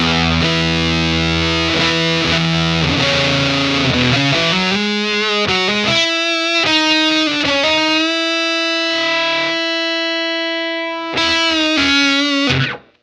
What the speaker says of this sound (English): I've got the fuzz about halfway up. Here it is, super crazy.